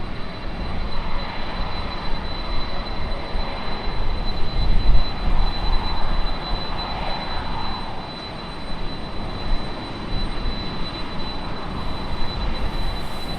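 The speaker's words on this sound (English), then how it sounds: "Got another 767 arriving here in a little while." A Boeing 767 arriving at Raleigh-Durham International Airport gives a steady, broad jet roar that holds throughout, swelling slightly in the middle with no one talking.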